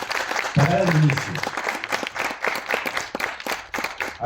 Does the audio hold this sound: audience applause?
yes